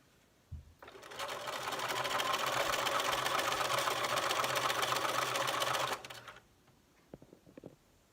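A sewing machine stitches pieces of quilt fabric placed right sides together, running in one steady, fast whir for about five seconds with a faint clatter of handling afterward.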